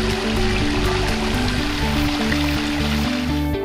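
A babbling brook beside a koi pond in a residential backyard gives a steady, close trickle and gurgle of running water, continuous with slight surges, under a low background hum.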